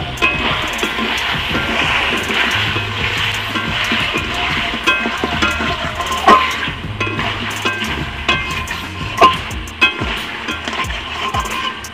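Meat being stirred in a pan over sizzling heat, with a steady frying hiss, scraping utensil strokes and a few sharper clinks against the pan.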